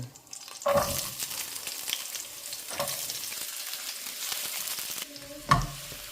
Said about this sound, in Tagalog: next, stir fry lang natin ito mga kaswat